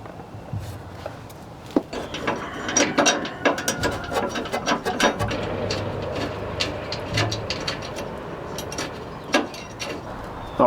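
Ratchet wrench snugging down rear sway bar bolts on a Jeep Gladiator, several bursts of quick clicking pawl strokes with pauses between, close and moderately loud over a faint background hum.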